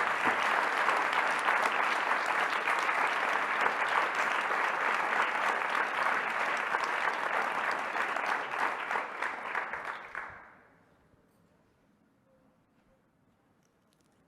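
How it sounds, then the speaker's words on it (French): Sustained applause from a sizeable crowd at a talk on women and Africa's future, dense and even for about ten seconds before quickly fading into near silence. "Je pense qu'on peut aussi applaudir Maud Salomé qui est là."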